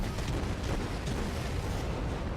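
Naval gun salvos striking an enemy cruiser in World of Warships, heard as a dense, continuous low rumble of booming impacts and blasts that holds steady without distinct gaps.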